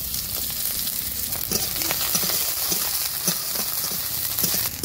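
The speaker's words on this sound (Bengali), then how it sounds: "পেঁয়াজ রসুন কুচি" Chopped onion and garlic fry in hot oil in a wok, a steady dense sizzle running throughout with occasional stirring scrapes, close and fairly loud, no voices.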